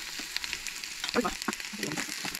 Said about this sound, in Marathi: हे जे आमी दाखयता पळयात ते सोय भाजून दाखयता